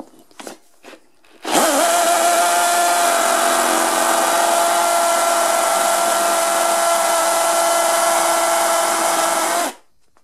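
A Bosch AdvancedImpact 18 cordless impact drill bores into material with one loud, steady, high-pitched whine lasting about eight seconds, starting and stopping abruptly after a few faint knocks.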